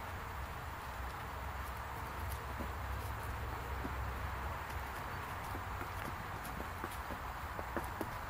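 Faint, steady clip-clop of three horses' hooves walking at an unhurried pace on a riding arena, over a constant outdoor background hiss.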